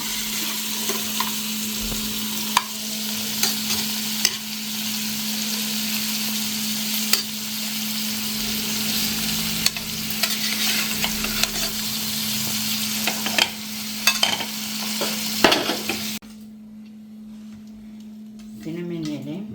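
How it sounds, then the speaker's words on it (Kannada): Paneer frying in ghee in a home kitchen pan while being stirred, a steady sizzle with frequent scraping stir clicks and a constant hum underneath, cutting off near the end to quieter room sound. "ಪನ್ನೀರ್ ಫುಲ್ ಫ್ರೈ ಆಯಿತು."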